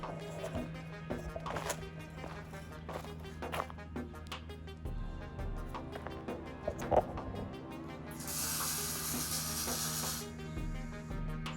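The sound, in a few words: spray foam being sprayed from a can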